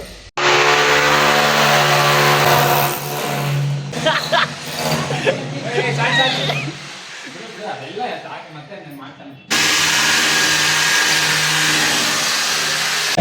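A drill machine starts up and runs with a loud, steady motor drone. The sound drops away while people talk in the middle, then the motor comes back at full strength.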